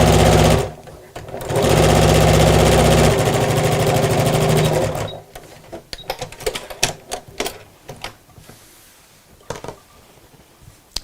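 A sewing machine stitches a craft bag with pockets, running steadily for about four seconds after a brief start, then stopping. Scattered clicks and handling noises of fabric and tools follow, close and fairly loud.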